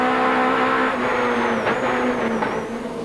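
A 1991 British Touring Car Championship race car with a 2-litre atmospheric engine at Silverstone, heard as a steady, loud engine drone with sustained harmonics that rise and fall slightly, continuous and close throughout.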